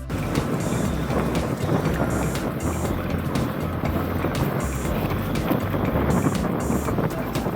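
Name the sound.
boat on river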